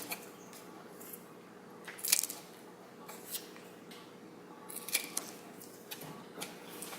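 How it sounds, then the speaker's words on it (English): Scissors snip through paper to cut small pieces for a 3-D paper art shadowbox, with a few separate quiet cuts and soft rustles close by in a calm room. "So I'm just going to cut 4 pieces."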